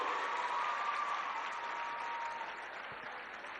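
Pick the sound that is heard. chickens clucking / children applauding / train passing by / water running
children applauding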